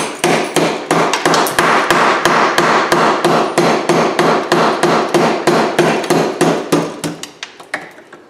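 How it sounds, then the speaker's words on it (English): Loud, steady hammer blows strike a motor armature to knock the copper windings loose, a piece held in channel-lock pliers, about two dozen sharp close whacks in quick rhythm that thin out and soften near the end. "If you use a bigger hammer, this goes quicker."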